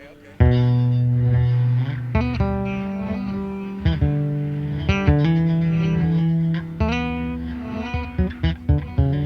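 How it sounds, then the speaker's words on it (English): Electric guitar notes through a Source Audio Ventris reverb pedal swell up in volume rather than starting with a pick attack, each one rising and sustaining with a washy, reversed-reverb bloom, played alone. "It's more like a reverse reverb, so it's kind of a swelling effect."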